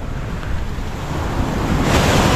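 Surf washes onto a sandy beach in Zambales facing the West Philippine Sea: a steady, fairly loud rush of breaking waves with some wind buffeting the microphone, building slightly toward the end, with no voices.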